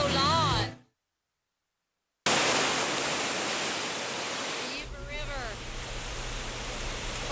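Fast-moving flood water on the Yuba River just above Rainbow Lodge during a storm, a loud, steady broadband roar and rush outdoors, broken by a short gap, with a voice speaking briefly over the torrent.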